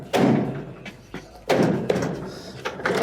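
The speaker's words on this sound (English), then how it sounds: "give a little knock on each corner to push it back" Knocks on the corners of a clothes dryer's control console, two loud close thuds a second apart with smaller taps and rattles between, no talk.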